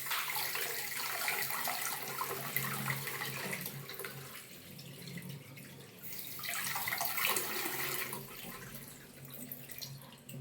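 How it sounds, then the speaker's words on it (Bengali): Fresh garden vegetables rinsed under a running tap in a home kitchen, a steady splashing stream of water with shifting intensity as the vegetables are moved, no voices. "এইগুলো সবজিগুলো আমি আরেকবার ভালো করে সুন্দর করে ধুয়ে নিচ্ছি"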